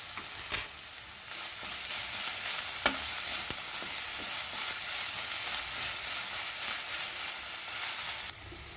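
Onions with a little salt fry in a pan for Gobi Manchurian, giving a loud, continuous hissing sizzle with a few light stirring clicks, unaccompanied by talk, before it drops away at the end.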